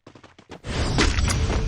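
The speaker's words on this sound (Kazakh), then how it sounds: "Бір оқ ата салды." Gunfire in a competitive shooter video game: a few short, sharp shot-like bursts open the sequence, then a dense, loud burst of firing and impact noise fills the rest.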